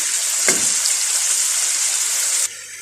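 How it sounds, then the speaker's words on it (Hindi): Chicken pieces with ginger garlic paste fry in a karahi for a white karahi, a loud continuous sizzle with a short burst of spatter early on, then the hiss drops suddenly at the end. "तो चलिए इसको फ्राई करते हैं।"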